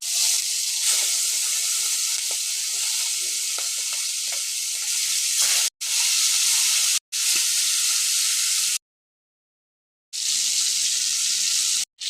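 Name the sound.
fish frying in hot oil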